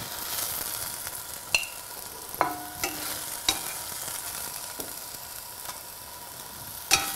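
Onions sauté in a pan with a constant bright sizzle, broken by scattered light clicks and scrapes from a spatula at irregular intervals, close and alone with no talking.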